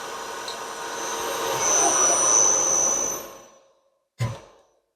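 A machine cut rounds off a metal cylinder, giving a steady whirring, grinding hiss that builds to a peak and then dies away to silence, followed by a short sharp sound as the last pass on the cylinder ends.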